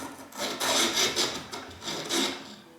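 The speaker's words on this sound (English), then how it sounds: "So after filing, just look at all the debris that's come out of that." Rhythmic rasping strokes of a file scraping caked debris from parts of an 1865 Forster & Andrews pipe organ, close and moderately loud, about five back-and-forth passes with brief pauses between.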